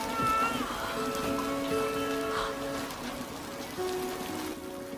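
Rain pattering steadily with drips leaking through a roof indoors, a wet continuous patter with tonal hums and some background sounds layered over it.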